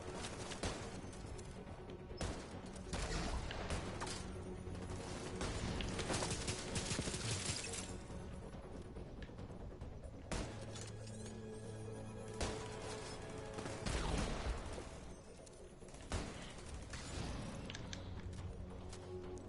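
Muffled booms and crashing impacts from mortar fire in Division 2 roll through a dense, busy game soundscape over roughly twenty seconds, with several heavier hits standing out.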